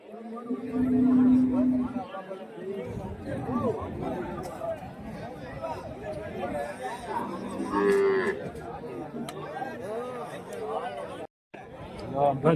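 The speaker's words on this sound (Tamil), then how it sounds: "இது வந்து மாடு கண்ணுக்குட்டியோட இருக்கு அந்த மாட்டோட கண்ணுக்குட்டி போல இது" A cow with her calf moos at a busy cattle market, two drawn-out calls rising above steady crowd chatter and nearby voices talking throughout.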